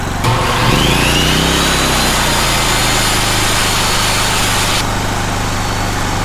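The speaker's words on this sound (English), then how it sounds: "All right, here's my table saw. It's 15 amps." A 15 amp table saw runs on power from a Predator 4550 watt inverter generator, giving a loud continuous motor drone that spins up at the start and then holds steady for several seconds, close by and without talk.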